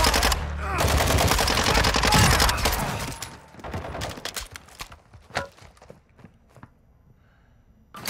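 Heavy automatic gunfire in the Modern Warfare II DMZ video game, a loud sustained burst at first, then scattered sharp shots and clatter fading toward quiet.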